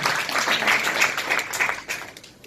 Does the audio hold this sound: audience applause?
yes